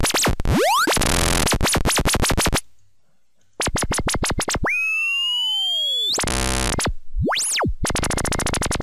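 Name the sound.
laser sound synthesized in NI Massive with LFO pitch modulation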